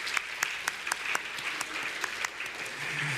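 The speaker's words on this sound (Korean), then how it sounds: "다 같이 박수로 한번 해보겠습니다." A church congregation claps together during a Sunday service, a sustained patter of many hands with a few sharper claps standing out, fairly distant, before a low voice begins near the end.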